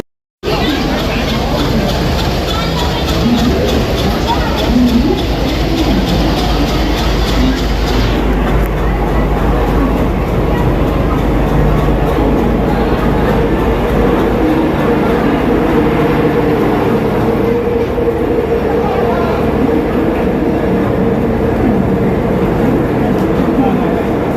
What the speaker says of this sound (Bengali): পর সময় মতো ট্রেন ঢুকে গেছে আর আমরা উঠে পড়ছি এক এক করে লাগেজ নিয়ে